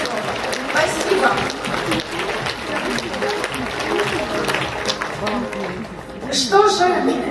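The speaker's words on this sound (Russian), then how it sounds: "Вот искренние аплодисменты, вот честное слово." Applause from a conference audience in Moscow, a broad wash of clapping from many hands that swells and dips, with a voice speaking over it.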